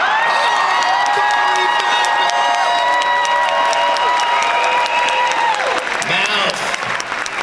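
A convention crowd at a Goonies Q&A panel at Megacon bursts into loud sustained applause with cheers and whoops, the clapping dense and roomy before easing off near the end, with some voices mixed in.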